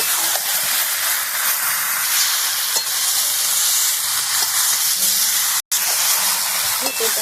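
Spice paste for a jackfruit and prawn curry sizzles and crackles steadily in hot oil at close range, a dense continuous hiss with only a momentary break partway through.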